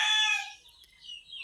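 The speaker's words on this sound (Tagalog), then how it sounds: "may mga manok na naman" A single loud chicken call, a rooster-like crow or squawk up close, fading into a quiet background with faint bird sounds.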